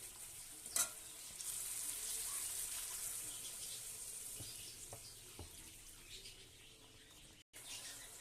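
Water poured into spices frying in oil for a fish curry, a soft steady sizzle and bubbling after a brief splash and clatter at the start, quiet and close with occasional utensil taps.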